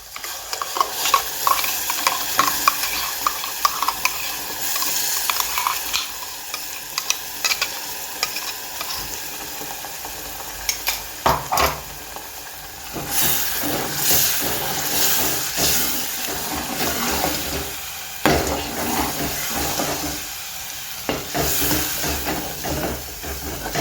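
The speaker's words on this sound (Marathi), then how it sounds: "त्याच्यानंतर हे वाटण वाटलेलं होतं ते टाकायचंय।" Ground masala paste for a fish curry sizzles and hisses in a hot frying pan, with stirring scrapes, loud and close, the sizzle surging and settling over time.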